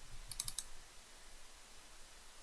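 A computer mouse clicks four times in a quick, faint burst early on, then soft room hiss follows.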